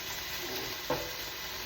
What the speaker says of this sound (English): But you can already hear the difference, the sizzle.